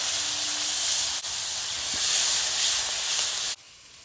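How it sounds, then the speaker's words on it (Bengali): Nigella seeds, slit green chillies and chopped tomato hit hot fish-frying oil in a kadai, giving a steady, loud, close hiss that holds for over three seconds and then cuts off sharply. "কড়াইতে মাছ ভাজার তেল আছে আর সামান্য একটুখানি দেব কালো জিরে দেব চেরা কাঁচা লঙ্কা টমেটো কুচি"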